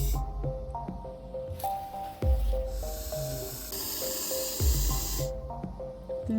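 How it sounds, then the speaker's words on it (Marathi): A threatened Russell's viper gives loud, close bursts of hissing like a pressure cooker whistle, with long breathy hisses between quieter clattering background noise. "आवाज ऐकू शकतो सापाचा. म्हणूनच ही कुकरच्या शिट्टीसारखा आवाज करते."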